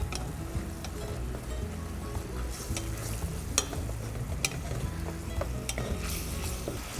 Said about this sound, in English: We just crank it up, get our wooden spatula, scrape it all off